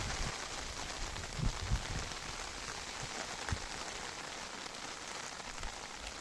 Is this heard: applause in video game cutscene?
no